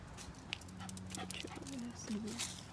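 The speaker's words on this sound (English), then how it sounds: "My dog just came out." A pet dog whimpers and whines softly outdoors beside a car, thin high cries rising over faint background noise, with a person speaking nearby.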